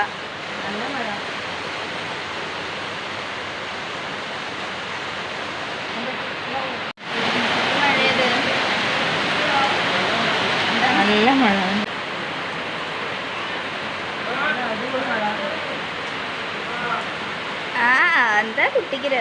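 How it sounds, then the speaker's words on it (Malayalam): Heavy rain pours down in a steady, loud broadband hiss that surges louder partway through, with voices talking faintly beneath it. "നല്ല മഴ"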